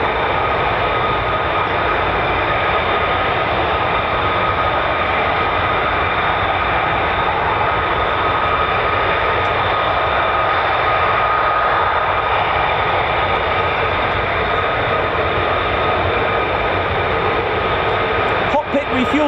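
An F-15 or F-35 fighter jet with the 48th Fighter Wing at RAF Lakenheath gives off a loud, steady engine roar and high whine that hold without a break, close and unbroken.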